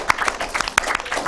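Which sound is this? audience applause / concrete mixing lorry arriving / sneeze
audience applause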